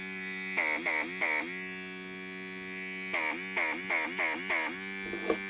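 A MakerX airbrush compressor runs at full blast with a steady electric hum and buzz. Several short bursts with a rising whine come in quick clusters over the running motor, and there is no talk.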